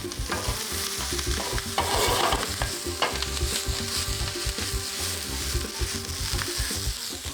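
Vegetables sizzle in hot oil while being stirred and tossed in a pan, with scraping strokes and a bright, steady frying hiss throughout. A louder burst of sizzle rises near the start, and no one speaks.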